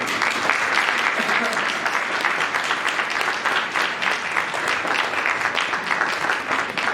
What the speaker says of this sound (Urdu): تالیاں بجائیں گے.